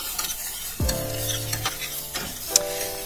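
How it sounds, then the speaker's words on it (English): Soaked rice and spices are stirred together with butter in a hot pan, giving a soft steady sizzle with a few scraping and clinking stirs, close, with no voices. "Now I mix the rice and the spices all together with the butter."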